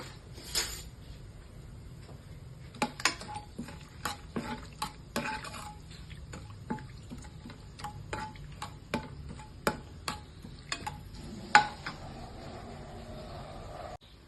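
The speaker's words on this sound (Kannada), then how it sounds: "ಈಗ ಎಣ್ಣೆ ಕಾದಿದೆ, ಪಲಾವ್ ಸಾಮಾನೆಲ್ಲ ಹಾಕ್ಕೊಳ್ಳೋಣ." Pulao ingredients, whole spices for a mushroom pulao, dropped into hot oil in a pan: faint frying hiss under a run of sharp clinks and taps of a spoon against the pan, close by and without talk.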